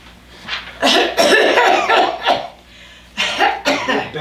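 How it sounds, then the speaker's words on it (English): A person coughs repeatedly during a stage scene, a ragged run of loud, close hacking coughs with short gasps between them and a final pair of bursts, with no talking over them. "Nasty cough."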